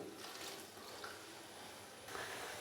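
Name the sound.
water poured into pan of fried whole spices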